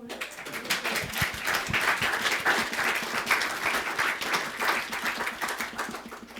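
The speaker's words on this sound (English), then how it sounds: "Clap, clap" Audience at a Unity of Salem church service claps steadily and moderately loud for about six seconds, a dense patter of many hands welcoming a reverend to the front.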